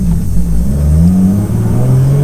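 Loud, close exhaust roar of a 700bhp Nissan Skyline accelerating hard on a street, engine note climbing steadily in pitch through a strong pull with no break.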